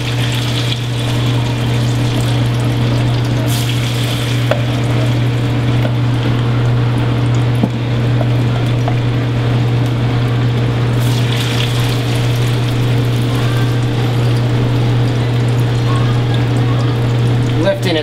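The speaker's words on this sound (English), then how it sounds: "we're going to drop the tofu in the fryer" Tofu deep-frying in hot oil in a fryer, a steady loud hiss and bubbling with a constant low electrical hum underneath, running unbroken from start to finish.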